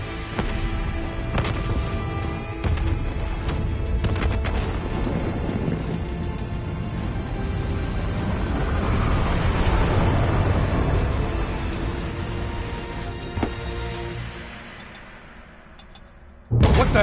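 Heavy rumbling blasts and crashing debris roll across a facility in Call of Duty Black Ops 3, a dense continuous barrage of booms and impacts that swells, then thins out near the end before a final loud hit.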